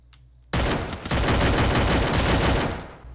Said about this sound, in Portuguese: Ó, o tiroteio aí, cara.